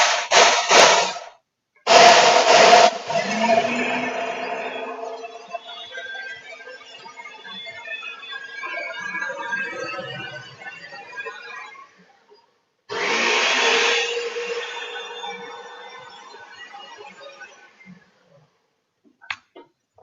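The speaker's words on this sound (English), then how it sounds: "I put the blender over here." A Ninja blender in a small kitchen whirs in loud grinding bursts, stops briefly, then runs again for several seconds before winding down with a few faint clunks.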